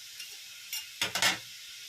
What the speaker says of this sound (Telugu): అప్పుడు బంగాళదుంప ముక్కలు వేద్దాం.